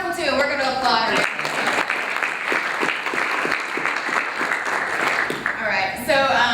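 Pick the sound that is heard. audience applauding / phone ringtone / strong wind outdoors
audience applauding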